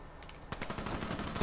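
Call of Duty Black Ops 3 multiplayer gunfire crackles in a rapid automatic burst, fairly faint and distant after a brief quiet moment.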